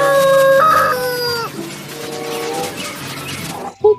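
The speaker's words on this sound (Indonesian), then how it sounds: "Wow, di sini juga ada ayam jago." A rooster crows loud and close in one long, stretched call on a toy-themed dinosaur playset recording, followed by a brief pause and a short clipped sound at the end.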